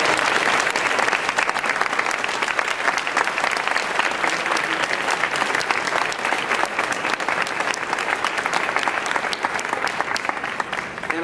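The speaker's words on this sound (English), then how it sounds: "give her another round of applause" Sustained, dense applause from an audience at a women's health event fills the room, steady and loud throughout without a break.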